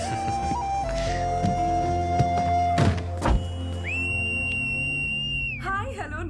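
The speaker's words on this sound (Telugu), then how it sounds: "ఏంట్రా ఈ పిల్ల రౌడీలాగా విజిలేస్తుంది?" A girl in a Telugu film scene gives one loud, shrill whistle that rises at the start and holds for nearly two seconds. Earlier thuds, a lower tone and some voices come before it.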